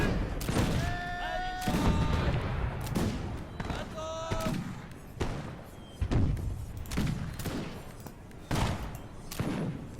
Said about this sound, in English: They're firing by rank.